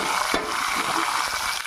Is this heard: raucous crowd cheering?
no